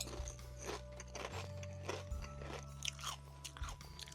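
Crunchy Quest protein chips bitten and chewed close to the mic, with repeated crisp crunches in an irregular rhythm against a steady low hum, no talking.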